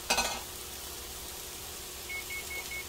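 Rice stir-fried for shrimp fried rice: a short clatter and scrape of the pan at the start, then a soft steady sizzle, with a faint repeating electronic beep near the end.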